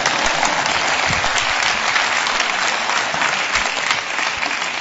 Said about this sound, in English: Hi, you can applaud.